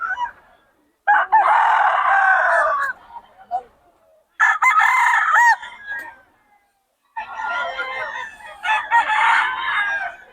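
Roosters crowing loudly in three long bursts, up close, with clucking from gamefowl in between and brief pauses of near silence.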